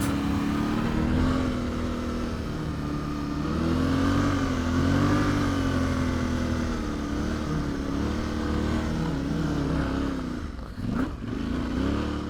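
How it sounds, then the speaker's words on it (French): A motorcycle engine revs hard and steadily while the off-road bike bogs down in soft Sahara sand during a solo desert crossing, loud and close with a wavering pitch and a brief dip near the end. "Plus j'accélère, plus la moto ralentit."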